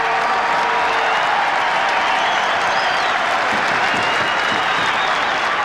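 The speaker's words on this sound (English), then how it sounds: "Just listen to the crowd." A large rugby league stadium crowd applauds and cheers in a dense, loud, continuous roar of clapping for a player coming onto the field, with no break throughout.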